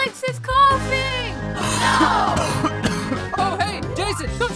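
A child coughs a few times amid a busy, noisy room with other children's voices and shouts around.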